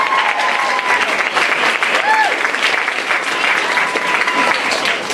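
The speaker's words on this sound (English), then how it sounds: "we'd like to give him a round of applause" Sustained round of applause from an event audience, dense and steady throughout, with a brief whistle cutting through and faint voices mixed into the crowd noise.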